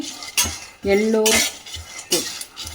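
Drumstick vegetable stirred while it fries in a pan over a medium flame, sharp metal spoon scrapes and clanks against the vessel in several bursts, close and loud, with only a faint sizzle beneath.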